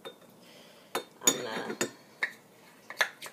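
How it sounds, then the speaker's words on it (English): Spoon clinking against a bowl while cocoa powder, almond butter and almond milk are stirred together for raw almond chocolate cups, a few sharp scattered clinks and scrapes, close and fairly quiet. "add the cocoa powder, almond butter, and a 1/4 cup of almond milk, and stir it up"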